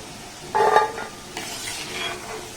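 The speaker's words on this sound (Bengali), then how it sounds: "মিষ্টিগুলোকে আমি বেশ কিন্তু অনেকটাই লাল লাল করে ভেজে নিয়েছি এবার এই মিষ্টিগুলোকে আমি উঠিয়ে নেব" Sugar-syrup gulab jamun sweets fry in hot oil and are scooped out, with a brief louder scrape or surge of bubbling followed by a soft, steady sizzle.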